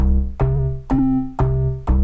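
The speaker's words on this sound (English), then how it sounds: "the first patch I've got here is a bass patch" A deep synth bass patch on an Akai Force plays four sustained, steady notes with sharp attacks, loud and close, with no other sounds.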